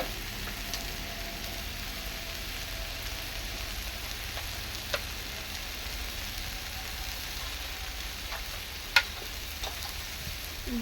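Water used to rinse spices hits hot spices frying in a pan while cooking a vegetable chorchori, producing a steady, even sizzle with a faint clink or two of stirring.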